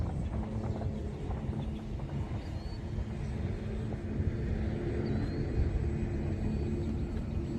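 A repaired radio-controlled model airplane flies at full throttle, its engine a faint, steady drone heard at a distance over a low rumble of wind, with no one speaking.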